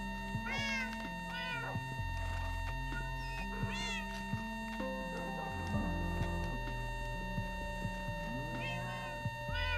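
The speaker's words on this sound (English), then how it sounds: "There's some more cats over here." Several cats meowing in Minecraft, repeated high mews from different animals over a steady game background with low tones, fairly close and clear, with short pauses between calls.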